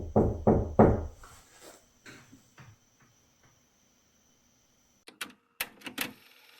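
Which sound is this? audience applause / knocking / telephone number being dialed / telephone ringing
knocking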